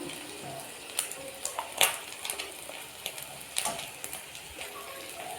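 Fish sizzles in a frying pan with a steady, crackling hiss, broken by scattered light clinks of a utensil against the pan.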